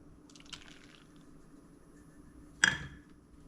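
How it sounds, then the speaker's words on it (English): Half a cup of water is poured into biscuit mix in a bowl, a single short splash after a brief faint clink, in an otherwise quiet kitchen. "I'm just going to add the half a cup of water rather than milk."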